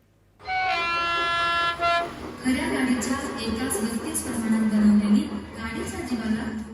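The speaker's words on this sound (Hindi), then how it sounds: "ये बुलेट ट्रेन पुणे के एक मिनिएचर रेल म्यूजियम में चलती है।" A miniature model bullet train runs in a rail museum in Pune, giving a loud, sustained horn toot followed by a steady rumbling run, with voices faintly underneath.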